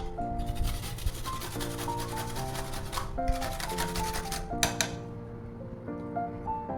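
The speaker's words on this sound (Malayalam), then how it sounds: "ഈ റൈസ് വെച്ച് നമുക്ക് മിക്സ് ചെയ്യാം" A neem face pack paste is mixed with rice and cucumber in a bowl, making repeated close scraping and rubbing strokes with occasional light clinks of the utensil against the container, and no talking.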